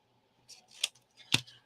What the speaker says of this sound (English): I'm going to change the angle of my scissors, and I'm going to cut it so it's not straight across